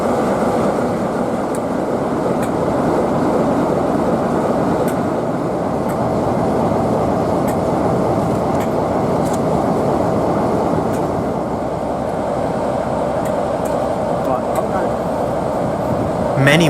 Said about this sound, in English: Let's have a listen to a non-electric train heated Class 47 now, with 47367.